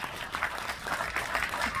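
An audience claps for a cameraman at a stage event, with steady, dense applause from a crowd throughout.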